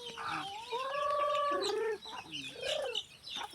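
Chickens and chicks cluck and peep close by on a farm, a run of tonal calls and short chirps with brief pauses.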